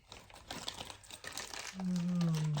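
Plastic bag crinkles and rustles in short bursts close by while holding greased wheel bearings during a brake job on a 1980 Chevy Camaro, followed by a brief low hum near the end.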